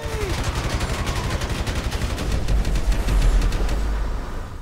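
A gun firing in GTA V, with a rapid, evenly spaced stream of loud shots like automatic fire and a heavy low rumble building midway as the volley continues.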